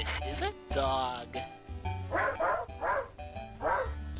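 A cartoon dog from the GÜBY & Friends TV show barks in a few bright, odd-sounding yips, close and fairly loud, following a short stretch of talk and set over a low background hum.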